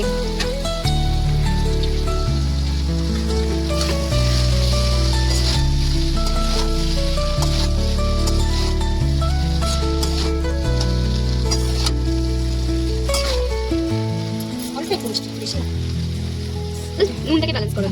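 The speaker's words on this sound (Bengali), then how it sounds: "এবার চাউমিনগুলো দিয়ে দিচ্ছে কড়াই, সিদ্ধ চাউমিন।" Boiled noodles for vegetarian chow mein sizzle steadily in a hot wok, a continuous frying hiss sitting beneath loud background music, with a voice speaking at times.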